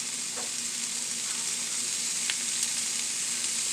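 Meat fries in a pan with a dense, steady, close sizzle that holds at an even level, with a couple of faint clicks from the pan.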